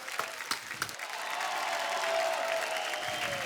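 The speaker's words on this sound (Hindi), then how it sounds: "जोरदार तालियां हमारी क्रिकेट टीम के लिए" A few scattered claps grow into steady applause from a TV studio audience, filling the space for a few seconds.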